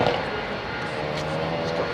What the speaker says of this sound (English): listen to these engines as he's going to power up